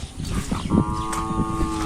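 A single cow lets out a long, steady moo close by, rising from a low rumble into a sustained tonal call that continues to the end, with faint rustling behind it on a rainy village outing.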